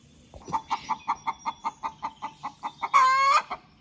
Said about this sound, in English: so that's what chickens do when they lay an egg